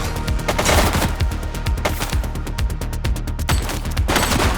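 Rapid gunfire in the police video game The Precinct, a loud close fusillade of sharp, overlapping shots in bursts with brief pauses.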